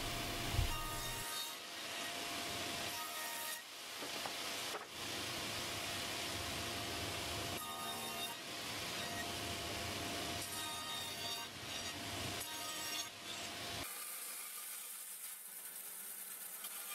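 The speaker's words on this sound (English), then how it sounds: "Using my dado stack, I can form the tenons on the pedestal leg." Dado stack on a table saw cutting tenons into an iroko wood pedestal leg, a steady loud broadband whine with several short dips and restarts, ending in a quieter hiss near the end; no talk.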